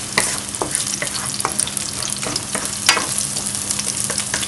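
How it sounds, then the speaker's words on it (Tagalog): Garlic and onion fry in a pan for squid adobo, a bright steady sizzle with intermittent clicks of a utensil stirring, nearby and without speech. "Antayin na natin mag kulay brown kunti yung mga yung bawang at saka sibuyas."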